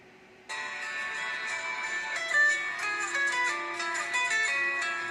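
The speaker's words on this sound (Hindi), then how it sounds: "इस पे जो नोकिया ट्यून थी वो भी आपको मैं सुना देता हूँ" A classic Nokia ringtone melody plays from an old Nokia phone's speaker, a steady electronic tune of bright sustained tones that carries on for several seconds after a quiet start, with no talking.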